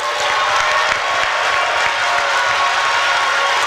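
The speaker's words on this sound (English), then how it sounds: "So clap your hands," A church congregation at a winter prayer retreat claps hands together, a dense, steady wash of many hands sustained throughout without pause.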